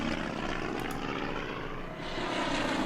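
Propeller aircraft engine drone from a plane in the wartime strategy game Order of Battle, a steady loud continuous hum with no talking over it.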